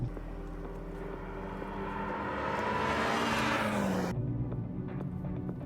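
A 2020 Mini GP car's engine is heard alone over a quick lap: a steady loud drone climbs in pitch as revs build, then drops abruptly.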